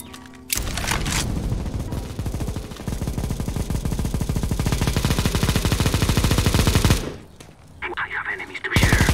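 Rapid automatic gunfire in the video game CS:GO, a loud sustained burst of dense shots lasting several seconds, then a brief drop and renewed firing, with a player's voice calling out over the shooting.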